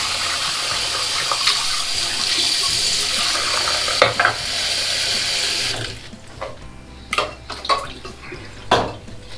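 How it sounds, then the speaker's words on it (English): Hot water poured into a container, a steady rushing stream for several seconds that stops, followed by scattered knocks and clatters. "I'm going to put some hot water in this other container here."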